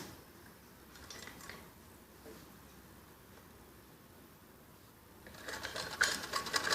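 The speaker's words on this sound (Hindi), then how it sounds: "और फिर इसके किनारे पे ऐसे सिलाई लगाते हैं।" Sewing machine running steadily while stitching piping onto the edge of a child's skirt top, a continuous mechanical whir that grows louder and busier near the end.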